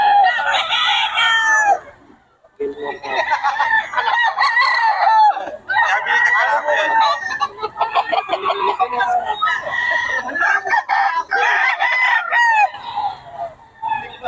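A Gilmore Hatch gamefowl rooster crows loudly and repeatedly at a Bocaue market, long strained calls following one another with brief gaps, close by, against a busy market background.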